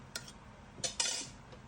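A metal lid clinks onto a cooking pot of hilsa fish, a few sharp close taps and rattles in a quiet kitchen.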